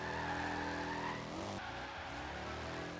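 A car drifts in the Forza Horizon 3 racing game, its engine droning steadily while the tires skid and squeal. The sound is loud and continuous, with a brief shift in tone partway through.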